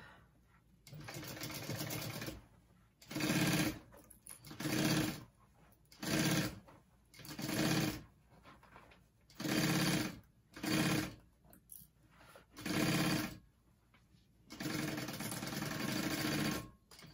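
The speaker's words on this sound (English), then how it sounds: "And sew that up." A sewing machine stitches a backpack in a run of short bursts, a long whir at the start and end with several brief stitching runs and pauses between, close and fairly quiet.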